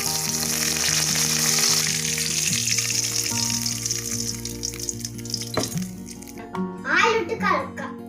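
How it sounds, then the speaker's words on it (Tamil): Mustard seeds spluttering and crackling in hot oil in a pan, tempering for tomato and coconut chutney: a steady dense sizzle with sharp pops, under a tonal background and a brief louder burst near the end. "ஆயில் விட்டு கடுகு போட்டுக்கலாம். கடுகு பொரிஞ்ச பின்னாடி நம்ம கருவேப்பிலை சேர்த்துக்கலாம்."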